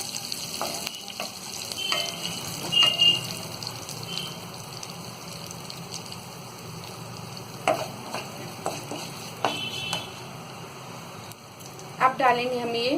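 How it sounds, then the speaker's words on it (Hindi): Cumin, mustard seeds and curry leaves frying in a pan for Mumbai-style vada pav, a crackling rain-like sizzle with scattered pops and a few spoon knocks over about thirteen seconds, close and steady. "और इसे हल्का सा हम भून लेंगे"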